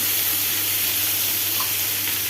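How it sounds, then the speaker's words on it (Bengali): Chickpeas frying in a pan with ginger, garlic, onion and spices, a steady close sizzle and hiss that continues without a break and with no talking. "আদা রসুন পেঁয়াজ মশলা যত যা আছে সব দিচ্ছি, দিয়ে একটু ভাজা ভাজা করতেছি"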